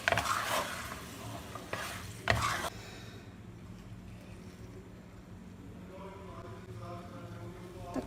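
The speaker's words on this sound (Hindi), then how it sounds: "इसको अच्छे से दोबारा मिक्स करती हूँ।" Chicken and pasta stirred in a pan for a spicy chicken pasta, a few loud scraping strokes at the start followed by a quiet low simmering hiss.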